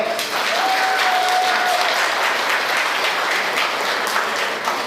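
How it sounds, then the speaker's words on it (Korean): A congregation at a church acoustic-guitar worship group event breaks into loud, dense applause, a continuous roar of many hands that stays steady throughout the few seconds. "우리 심의라창에서 박수하겠습니다"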